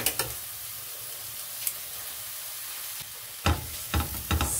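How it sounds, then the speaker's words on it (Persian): Garlic sautéing in a pan, a soft steady sizzle broken by a few sharp scraping stirs near the end. "سیرم یه تفت مختصری میدم."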